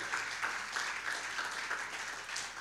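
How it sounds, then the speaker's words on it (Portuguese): A church congregation claps for Jesus during a worship service, a fairly quiet, brief round of scattered clapping with a loose rhythmic pulse, heard from a distance. "Dá uma salva de palmas para o Senhor Jesus."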